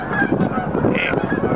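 Geese honking outdoors in northern New Jersey, a dense flock calling continuously and loudly, with overlapping honks throughout.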